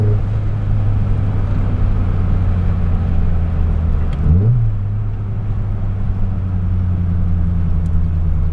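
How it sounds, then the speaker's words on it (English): A car engine held at wide open throttle and low RPM while running too rich, a steady loud low drone with a brief pitch dip and recovery midway, continuous with no talk. "So we're at wide open throttle at low RPM"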